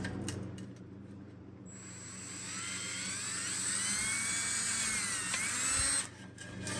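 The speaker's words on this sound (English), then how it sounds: "All right, here goes the first drill." A high-pitched power drill with a step bit whines steadily for several seconds, pitch rising and sliding as the bit cuts through, then stops abruptly.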